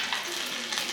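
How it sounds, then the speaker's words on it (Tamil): Torn chicken pakoda pieces crackle and hiss in hot oil, a dense, steady frying sizzle heard up close for a brief moment. "நல்லா பொரியுது"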